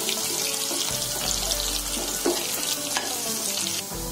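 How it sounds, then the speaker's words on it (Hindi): Cumin, kasuri methi, grated ginger and chopped green chilli sizzle loudly in a pan for an onion-free chole, a constant close crackle with brief scraping stirs. "सभी सामग्री को अच्छी तरह से भून लेंगे।"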